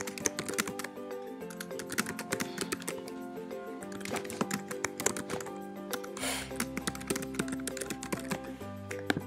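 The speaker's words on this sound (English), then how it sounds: "You can type in whatever you want to type in." Rapid clicking of someone typing text on a computer keyboard, steady keystrokes running under continuous background music throughout.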